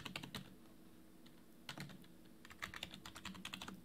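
Fingers tap a computer keyboard while a Python example is written, a few quick keystrokes, a pause, then a faster run of close, light clicks in a quiet room.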